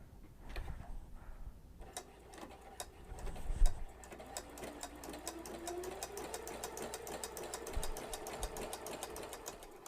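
A sewing machine stitches a flower design using a flower-stitching attachment, producing a rapid, steady train of mechanical ticks and a low motor hum after a few faint handling noises at the start.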